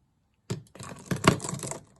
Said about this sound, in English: excuse the noise, marbles.